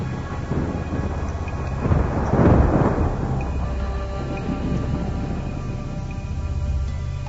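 A thunderstorm rumbles with deep rolling thunder that swells midway through, under a steady hiss of rain or hail.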